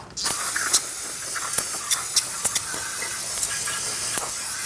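A spray of water rinses loosened surface rust off the rear brake hub of a 2016-2019 Chevrolet Cruze, a steady close hiss running throughout with faint spattering clicks and brief bursts as the stream shifts.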